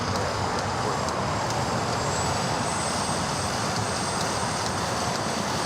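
A jet airliner roars on its takeoff run from runway 25 right at Los Angeles International Airport, a steady, broad engine rumble and hiss that stays loud and unbroken throughout, with no voices.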